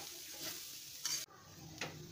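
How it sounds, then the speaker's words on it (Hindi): Grated coconut being stirred and dry-roasted in a pan for coconut laddoos, a close, crisp sizzling scrape with a couple of sharper spatula strokes against the metal, quiet and without speech. "इसको ऊपर नीचे करके मिलाते रहना है और अच्छे तरीके से ये पूरा ये ड्राई हो जाना चाहिए, तब तक कि इसको हम इसी तरीके से भूनते रहेंगे।"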